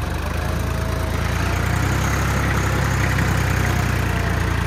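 A Swaraj 855 4x4 tractor engine labours steadily while pulling an 11-tine cultivator, a continuous low rumble with a dense broadband roar layered over it, close and loud throughout with no voices.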